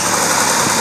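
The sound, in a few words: 4010 tractor engine running smoothly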